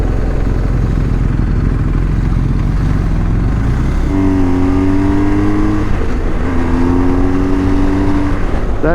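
BMW R 1250 GS motorcycle accelerating on a highway ride, engine note rising through gears with a shift pause, loud and constant under heavy wind rush.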